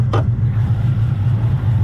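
A cammed 6.1-liter Hemi V8 idles with a deep, steady, lopey rumble, close and fairly loud, alone apart from a brief faint click near the start.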